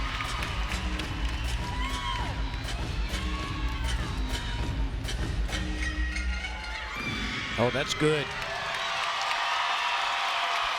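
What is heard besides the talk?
gymnastics crowd cheering after a landing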